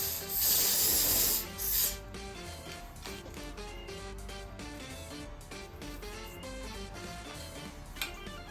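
A spray bottle hisses in a loud burst of about a second and a half onto wig edges during an install, followed by quieter rubbing against faint background music.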